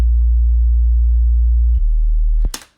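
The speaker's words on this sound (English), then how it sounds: "it's a sine wave, so it doesn't have any harmonics going up" A pure sine-wave sub-bass note from the Operator synth in Ableton Live holds steady and loud, steps down slightly in pitch, then cuts off with a brief click at the end.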